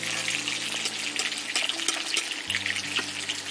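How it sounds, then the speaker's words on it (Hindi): Loud, dense sizzle of fish frying in hot oil, a steady crackling hiss with a low hum underneath. "इसी तरीके से हम सारा मछली को फ्राई करेंगे।"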